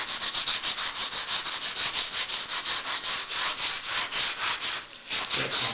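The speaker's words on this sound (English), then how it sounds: "you want to get some steel wool and just rub that off at the wall" Steel wool scrubs leftover wallpaper residue off a wall in fast rhythmic back-and-forth strokes, loud and close, with a brief pause near the end and no talk.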